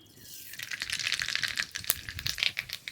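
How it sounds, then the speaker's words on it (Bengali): Mustard seeds splutter in hot mustard oil in a wok during tempering, a dense run of quick crackling pops and ticks that swells after a moment and keeps spitting irregularly, close by. "সর্ষে ফোড়ন"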